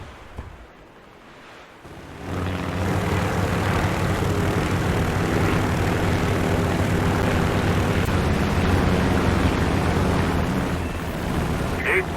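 Aircraft engines in the War Thunder video game rise from near quiet into a loud, steady propeller drone that holds with a broad rushing roar until the end.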